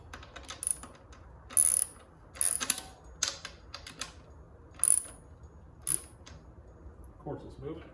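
A ratchet works on the axle nut of a Honda CT90 motorcycle, giving several sharp metallic clicking bursts at irregular intervals, close by, with low background noise in between.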